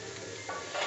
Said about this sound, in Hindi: हरी मिर्च और हरा प्याज, इसको हमने भून लिया है